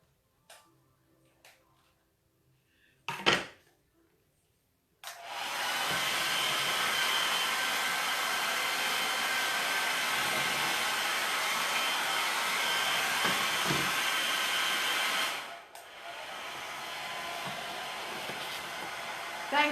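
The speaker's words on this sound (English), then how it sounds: "I'm going to turn the hairdryer on one more time." A few faint clicks and a knock, then a hair dryer roars on loudly and runs steadily for about ten seconds before switching off.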